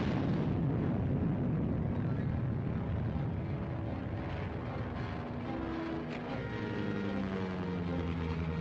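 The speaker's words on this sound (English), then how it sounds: "There's a bomb wired to explode in your plane at 1 minute past 8." Bomb exploding aboard a plane in a 1941 film serial: a heavy, sustained roar and rumble fills the whole stretch without letup, like a blast blended with aircraft engine drone, no voices.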